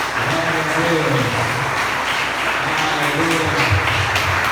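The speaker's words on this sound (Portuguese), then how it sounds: "você pode aplaudir o bem forte" Loud, steady applause from a church congregation during a Portuguese-language worship service, a dense wash of clapping that fills the whole stretch, with voices carrying underneath.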